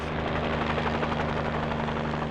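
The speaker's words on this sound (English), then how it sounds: "there's no escaping the relentless blades of the chopper" A helicopter chases a wild horse, its rotor drone and engine whine loud and steady throughout with no break or voices.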